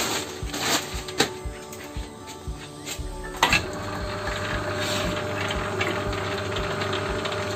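A rubber sheet rolling machine starting up for making ribbed natural rubber sheets at home: clanks and knocks at first, then a steady mechanical rumble and rattle settling into continuous running, no speech.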